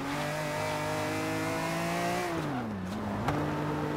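A BMW M3 E46 with a Rocket Bunny body kit revs while driving, its engine note holding steady and rising, then dipping sharply before climbing again, loud and close with continuous road noise.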